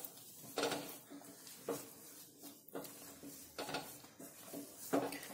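Peda mixture of wheat flour being stirred and mixed in a pan with a utensil, giving soft intermittent scraping and clinking strokes, fairly faint and close, with no talk.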